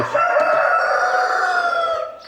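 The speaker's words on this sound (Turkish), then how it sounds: "Burada 18 tavuk var." Chickens in a coop crowing and clucking, with a loud, continuous rooster-like call that fills the whole moment close by, with no talk.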